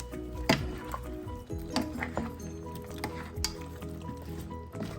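Catfish simmering in a coconut milk stew (ginataang) being stirred, with soft wet squishing and occasional clinks of a utensil against the pot over a low steady bubbling, fairly quiet.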